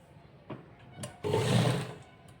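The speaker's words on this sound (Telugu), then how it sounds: "ఇట్లా దీన్ని పైన పెట్టుకొని ఒక కుట్ అనేది వేసేసుకుందాం" A sewing machine stitches scallops along a fabric neckline in short bursts, with a longer whirring run near the end, close and fairly quiet.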